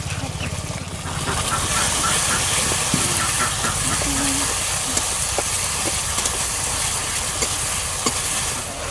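Spice paste with salt and a little turmeric frying in a pan for doi katla, giving a loud continuous sizzle and hiss close up, with faint stirring scrapes and no talk.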